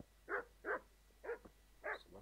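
A dog barks four times at a village in the medieval video game Kingdom Come: Deliverance, short evenly spaced woofs at moderate distance, fairly faint.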